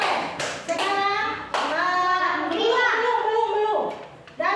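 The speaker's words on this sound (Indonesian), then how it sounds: "Oke, kita tepuk tangan dulu." Classroom applause from students after a group discussion presentation: a burst of clapping mixed with children's voices and chatter, close and fairly loud, with talk running through it.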